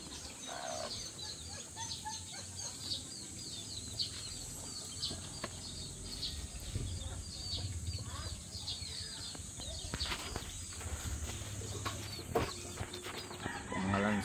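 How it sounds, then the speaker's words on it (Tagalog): Chickens cluck and a rooster crows at a fiesta, faint and scattered against a busy outdoor background with some distant voices. "Manok."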